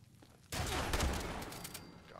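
A shotgun firing buckshot in Fallout 76 goes off with a sudden loud blast that rolls into a rattling, decaying burst, preceded by a quiet moment.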